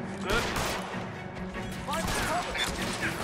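A Tommy gun firing in the video game LA Noire, with repeated bursts of automatic gunfire and crashing impacts rattling through a busy mix, voices talking under the shooting.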